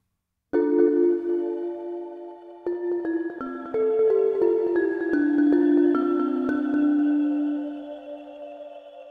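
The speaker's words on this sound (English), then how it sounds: "taking sort of sampled grains of the sound and doing delay and modulation to that" Layered synth notes from UVI Glass Orchestra stack and overlap in shimmering, grainy textures from granular delay, with echoing repeats and a slow wavering modulation, sustaining loudly before gradually fading.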